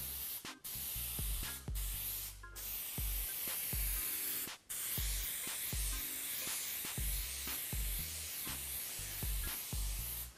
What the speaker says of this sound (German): So, mit Sprühkleber einsülzen.